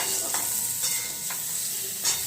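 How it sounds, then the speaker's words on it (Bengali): Cauliflower and potato fry in oil in a wok, a loud, steady sizzle broken by a few scraping stirs of a spatula at close range. "ভেজে নিচ্ছি কপি আলু আর কড়াই দিয়ে রান্না করছি"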